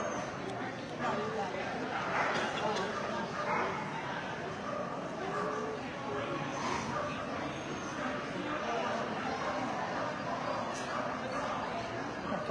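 Dogs at a specialty dog show barking and yipping from a distance, intermittent and faint beneath a crowded, busy hall murmur and announcer-like talk.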